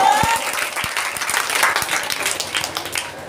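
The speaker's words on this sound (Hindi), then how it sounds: "ताली से स्वागत करिए फिर से सबका" An audience at a school gathering breaks into steady, fairly close applause, a dense patter of clapping lasting a few seconds with no voices over it.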